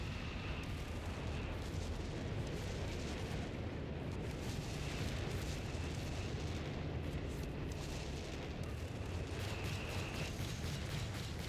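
A relentless artillery barrage pounds a 4v4 strategy-game battle on the Rapido River Valley map, with dense, overlapping booms and explosions rolling on without pause for the whole stretch, loud and continuous with no talking.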